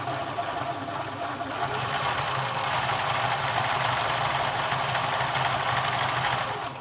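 A Husqvarna Viking Practica Model 4010 sewing machine stitching steadily, a continuous mechanical whir and rapid needle chatter that holds at an even level from start to finish, with no voices.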